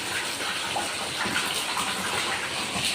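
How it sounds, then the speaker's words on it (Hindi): Heavy rain pouring down in a steady, dense hiss close by, continuous and broadband with no letup and no voices. "तो बहुत तेज़ बारिश हो रही है।"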